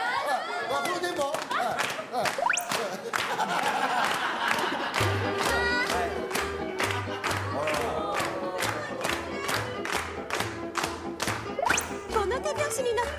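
A Japanese TV variety-show studio audience claps in a steady tempo along to upbeat music, with loud crowd noise and cheering mixed in.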